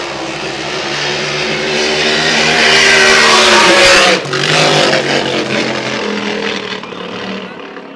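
Steeler racing hydroplane on the final straight of a Valleyfield Grand Prix time trial: a loud, sustained engine roar building to a peak, then abruptly dropping and trailing off as the boat passes.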